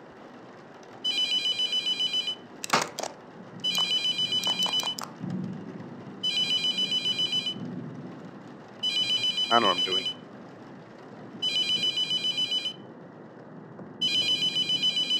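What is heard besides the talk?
telephone ringing in video game Mortuary Assistant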